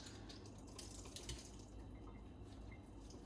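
Grated potato squeezed by hand to press out its water, a soft continuous wet trickle and drip with faint squelching, close and quiet, no voices.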